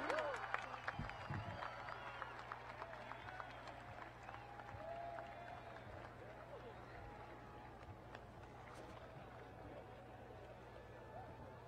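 A graduation audience at an outdoor 2018 ceremony claps in a sustained, fairly distant round of applause that slowly thins out.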